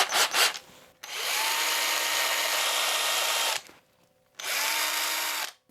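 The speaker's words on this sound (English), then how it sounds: "Now we can go ahead and drill a little pilot hole." A power drill whirs in two sustained bursts close by, drilling a small pilot hole in a soft plastic fishing lure, separated by a short pause, with a brief clatter at the start.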